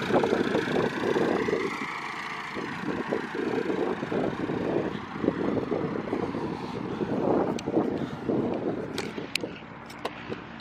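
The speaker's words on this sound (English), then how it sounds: "The caravan's being towed by a tractor." A tractor engine runs steadily while towing a caravan at a military vehicle and aircraft show, a loud continuous rumble with wind buffeting and outdoor noise, no voices.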